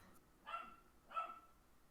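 A dog barks twice at a cat indoors, two sharp, moderately loud barks about half a second apart over a quiet room background.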